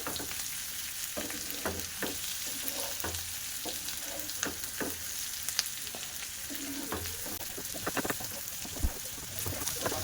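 Fried bitter gourd and potato slices stirred together in a hot pan, a constant close sizzle broken by repeated scraping knocks of the spatula at an uneven rhythm.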